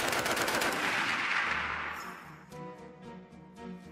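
A Browning Automatic Rifle fires a dense, booming burst of automatic gunfire, the rapid shots blurring together before the sound tapers off into a few scattered, echoing reports.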